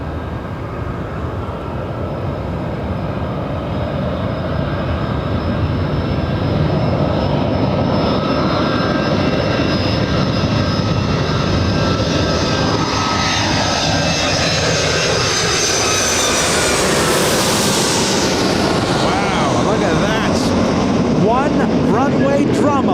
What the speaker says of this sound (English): And Delta is on the move.